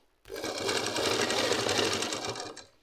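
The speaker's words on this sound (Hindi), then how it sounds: "बस इसको ऊपर से ना एक सिलाई और मारनी है, यहाँ से डबल सिलाई ये चीज़ में, पैर का सिलाई।" A sewing machine stitches a petticoat hem in one loud, steady burst of rapid mechanical whirring, starting abruptly and winding down after about two seconds, with no talking.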